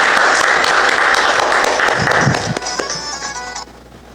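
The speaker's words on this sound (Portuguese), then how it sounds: "Para o Senhor Jesus, uma linda salva de palmas." Congregation applauding during a church worship service, a dense steady clatter of many hands that thins and fades out near the end.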